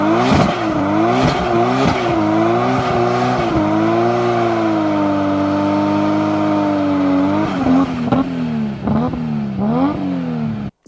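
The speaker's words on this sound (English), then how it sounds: "And now we've got a single turbo Skyline." A single-turbo Nissan Skyline engine revs hard, climbing and falling through several pulls with a sustained high-rpm drone in the middle, then quick blips and throttle snaps near the end, loud and close with no talk.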